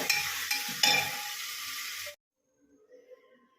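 Rice stirs and fries in ghee, a close hissing sizzle with a couple of scraping stir strokes that cuts off abruptly after about two seconds, leaving near silence with faint low sounds.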